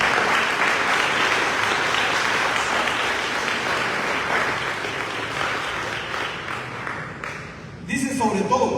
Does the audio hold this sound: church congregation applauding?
yes